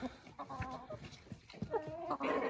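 Liven chintz chickens clucking in a coop, several birds calling at once in short, overlapping bursts, moderately close, with no voices present.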